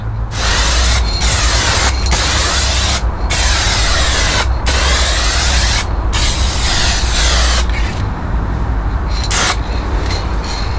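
A spray gun lays lacquer onto a carbon fibre drift spoiler in long, loud, continuous hissing passes, broken by several brief pauses between strokes, with no talking.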